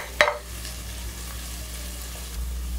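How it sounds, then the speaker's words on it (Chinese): Shallots frying slowly in a wok, giving a soft continuous sizzle with occasional stirring, opened by one sharp utensil clink against the metal, close and fairly quiet with no voices. "红葱头就可以下来了，哦，然后慢慢的煸它，煸至金黄酥脆"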